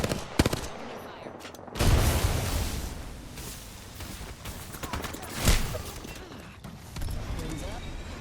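Rapid bursts of gunfire and impacts during a match of the video game Apex Legends, loud and dense, with heavier volleys around two and five seconds, mixed under players talking.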